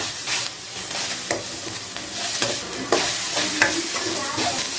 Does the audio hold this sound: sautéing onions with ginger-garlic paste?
yes